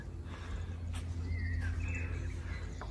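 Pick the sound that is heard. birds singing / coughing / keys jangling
birds singing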